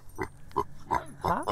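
A house-trained mini pig grunts and oinks close by, four short snorting bursts in quick succession, the last ones longer and more emphatic.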